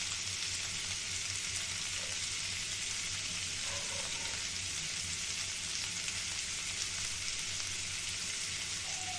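Chicken pieces for grilled chicken fry in a pan, producing a steady, even sizzle and hiss with no breaks, moderately quiet and close, without any talking.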